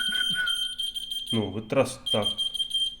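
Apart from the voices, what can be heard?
whistle-activated key finder keychain beeping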